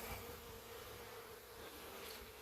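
Honeybees in an opened winter hive give off a steady, close, continuous buzz that holds an even level from start to finish with no talk over it.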